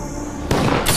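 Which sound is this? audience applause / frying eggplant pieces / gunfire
gunfire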